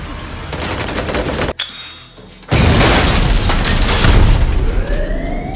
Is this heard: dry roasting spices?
no